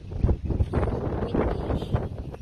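Gusty wind buffets the microphone at a harbour with boats nearby, a steady low roar with uneven surges throughout, loud and close, with no voices.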